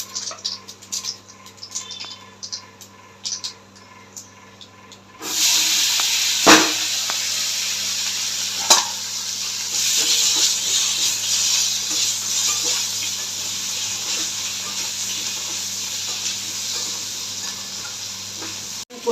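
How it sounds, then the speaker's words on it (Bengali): Nigella seeds drop into hot oil for tempering, and a quiet kitchen gives way to a sudden loud, sustained sizzle and hiss as they lightly fry, with a couple of sharp knocks along the way. "এবার কালো জিরে ফোড়ন দেবো, হালকা করে একটু ভেজে তুলে নেব"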